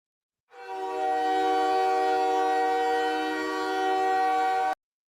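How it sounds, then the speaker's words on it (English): The Montreal stadium goal horn blares as one loud, sustained, chord-like horn blast lasting about four seconds, starting abruptly and cutting off cleanly, with nothing else heard. "That's the Montreal goal horn."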